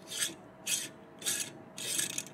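A scooter's original centrifugal clutch spring rasps and scrapes in four slow, even bursts as the clutch is turned by hand, close up and fairly quiet.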